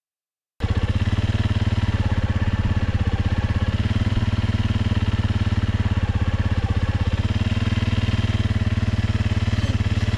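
A motorcycle cruises on an outback road between Undara Lava Tubes and Croydon, its engine droning steadily and loudly from start to finish, close to the rider.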